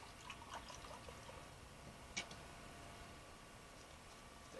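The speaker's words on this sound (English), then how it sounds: "I think we're going to do a 1/3 cup of beef stock as well." Beef stock is poured into a sous vide bag of short ribs, a faint, steady trickle of liquid with a small splash partway through, heard close in a quiet room.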